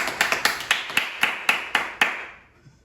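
Church congregation at a Bible doctrine camp clapping in unison, about nine sharp, evenly spaced claps in a steady beat, then stopping, with no talk.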